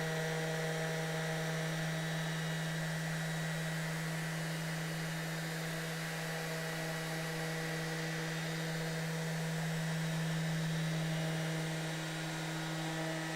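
A steady electric sander whirs on Meganite solid surfacing with a constant hum and buzz, close and fairly loud, holding an even pitch throughout with no talking.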